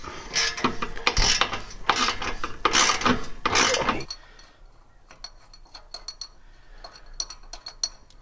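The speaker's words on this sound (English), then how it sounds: "I'm under here bolting up the downpipe" A ratchet wrench tightens bolts on the turbo downpipe of a Nissan S13 with an SR20DET engine: loud, fast clicking bursts for about four seconds, then fainter, sparser ratcheting clicks.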